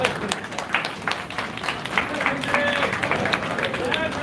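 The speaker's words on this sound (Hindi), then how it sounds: "तालियां बजा लो।" Clapping from a gathering at a Shani Dev devotional ritual, a dense round of hand claps going for several seconds with voices talking and murmuring in the crowd underneath.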